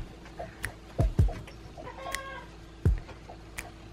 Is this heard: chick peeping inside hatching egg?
yes